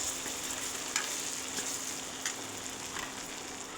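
Vegetables for a Bhogi mixed vegetable curry frying steadily in a pan as spices are stirred through, a continuous close sizzle with occasional soft scrapes of the spoon.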